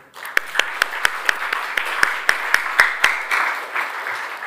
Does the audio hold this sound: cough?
no